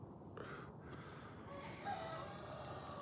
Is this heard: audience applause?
no